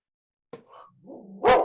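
A pet dog barks close by in a short, loud burst at the end, preceded by a few softer yips and whines, with no talking.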